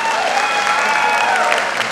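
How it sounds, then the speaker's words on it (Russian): An audience claps for a school KVN league team at a stage event, giving steady, dense, loud applause throughout with a voice faintly mixed in. "Ваши аплодисменты, друзья"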